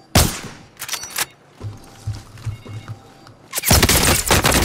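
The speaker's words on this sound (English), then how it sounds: "I heard gunfire" Bursts of gunfire from Call of Duty: Modern Warfare, sharp volleys at the start and a sustained loud barrage at the end, with quieter thuds in between.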